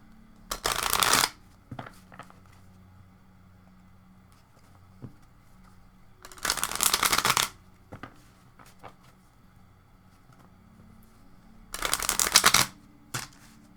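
Tarot cards are shuffled in three separate bursts of quick riffling flutter, close and crisp, with quiet pauses and small handling taps between them.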